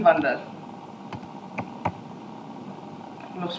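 A few sparse keystrokes and clicks sound as a search is typed into Google Chrome on a keyboard, fairly quiet and close, with brief muffled voice at the edges.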